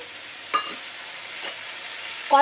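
Sizzling and stirring in a pan as capsicum goes into frying mashed eggplant, with a few short scraping stirs rising over a steady fry hiss, close and clear.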